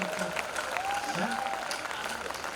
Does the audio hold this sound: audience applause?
yes